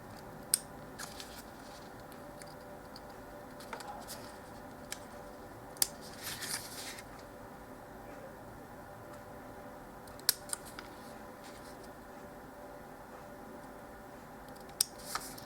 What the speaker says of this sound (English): I'll move to scissors now.